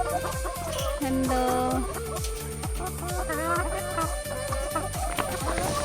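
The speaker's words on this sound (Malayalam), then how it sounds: "ഇവിടെയും ഉണ്ട് എൻ്റെ കോഴിക്കുട്ടന്മാർ" Several pet chickens cluck close by in quick, repeated bursts, their calls layered and continuous, while a voice briefly speaks over them.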